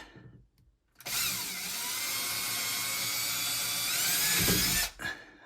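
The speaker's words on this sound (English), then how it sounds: "I'm gonna replace it with this drill bit." A close, high-pitched power drill runs continuously for about four seconds, its whine dipping slightly as it bites, then cuts off abruptly.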